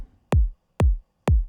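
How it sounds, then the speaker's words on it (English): A kick drum in an electronic track built from film sound samples thumps three times at an even, steady pace, each hit deep and punchy with a short decaying tail and clean silence between. "For the drums, I've used this kick here"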